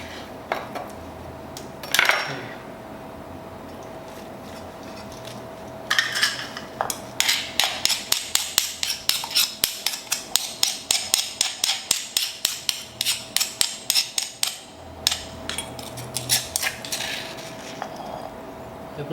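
A knife chops kidney and other ingredients for a Thai southern-style chicken curry on a cutting board, striking in a fast, steady run of sharp close knocks with a few scattered taps before and after.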